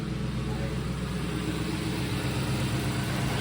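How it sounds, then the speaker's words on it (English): Ford Mustang GT running steadily in a garage after a transmission replacement, a low even idle hum with no talking. "Got the Mustang running."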